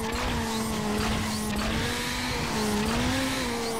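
A car's nitrous boost in the PSP racer Need for Speed: Underground Rivals, a steady, loud engine whine with rising and falling pitch, holding continuously without pauses.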